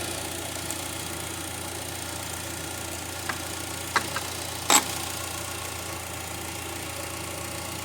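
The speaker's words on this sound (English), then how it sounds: "The engine is running, as you can hear it." Car engine idling steadily with the battery terminal disconnected, a low constant hum heard nearby, broken briefly by a few faint clicks and one sharp metallic tap near the middle.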